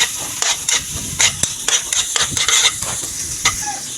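Onions sizzle in oil in a pan while a utensil stirs and scrapes them in quick, irregular strokes over a steady frying hiss, heard close and without talk.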